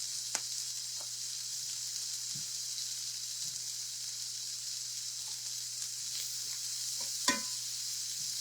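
Onions and garlic sauté in butter in a pan, giving a steady, even sizzle with a low hum beneath it and a few faint clinks and stirring knocks.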